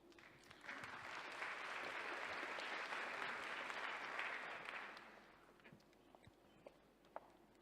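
A conference audience gives a warm round of applause, with steady clapping that swells, holds for several seconds, then fades to a few scattered claps.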